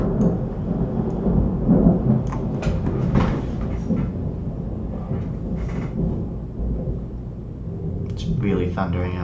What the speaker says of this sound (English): Really thundering out there.